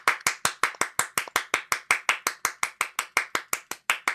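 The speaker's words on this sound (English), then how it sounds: "please come up and let's all give them a round of applause for all this" A single pair of hands clapping in an even, brisk rhythm, about five claps a second, sharp and close with no voices or crowd behind it.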